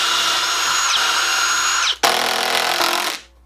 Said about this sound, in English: I'd recommend pre-drilling all of our holes at these joints